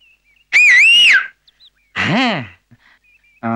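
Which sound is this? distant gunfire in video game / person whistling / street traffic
person whistling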